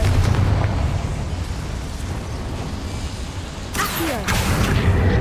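A Confringo spell explosion in the video game Hogwarts Legacy, a loud burst that erupts near the end over a dense, rumbling game soundscape of booms and noise.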